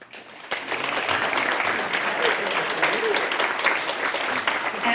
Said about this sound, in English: a round of applause for everyone wearing green today